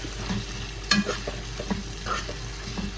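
Masala with tomatoes stir-fried in oil for an aloo, methi and carrot sabzi: a spoon scrapes and turns the thick mixture in a steady rhythm, with one sharper clack and a soft sizzle underneath.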